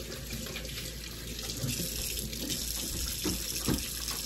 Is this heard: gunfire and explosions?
no